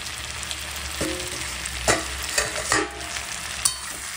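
Vegetables sizzle and hiss steadily while being stir-fried in a pan, with a few clinks and scrapes of the spatula stirring through them, close and alone with no talk.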